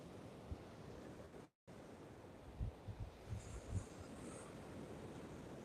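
Ocean surf rolls onto the beach at Sanibel Island in soft, faint washes mixed with wind noise against the microphone, a low continuous rush with a few gentle swells.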